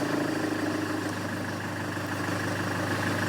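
A Land Rover Freelander engine, just fitted with a new camshaft position sensor after cold starting trouble, idles steadily with a constant loud mechanical drone and rattle, close by and alone.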